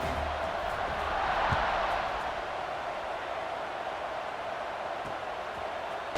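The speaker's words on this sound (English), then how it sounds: "Do you think this crowd's going to get loud when their defense comes on the field?" A broad, steady roar of a large stadium crowd at a college football game in a video game, swelling slightly then holding at a constant wash of noise.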